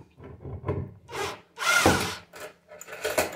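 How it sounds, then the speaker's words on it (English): A cordless screwdriver drives screws into wood while repairing a broken laundry hamper, giving several close bursts of whirring, grinding motor noise and creaking wood, with short pauses between runs. "a poor man might not have a cordless screwdriver, but I have one, so I'm going to use it"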